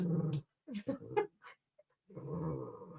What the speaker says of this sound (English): She's growling because the kid's there.